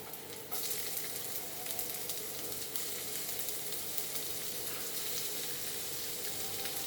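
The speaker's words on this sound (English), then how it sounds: "Now I will be adding onion to it." Chopped onion sizzles and fries steadily in a hot pan while potatoes and fenugreek leaves are cooked, a loud continuous crackle that jumps up just after the onion goes in and keeps going with no talking.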